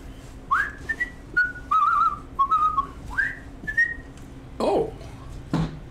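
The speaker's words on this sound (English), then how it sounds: "Doing something I enjoy, whistling." A man whistles a short melodic tune, clear sliding phrases close to the listener with brief gaps between notes, ending with a couple of louder bumps.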